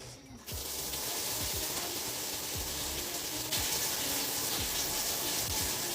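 Shower water streams steadily in a home bathroom, a constant broad hiss starting abruptly as the flow comes on and continuing without a break.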